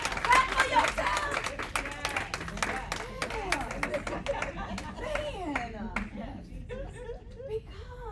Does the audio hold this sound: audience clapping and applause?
yes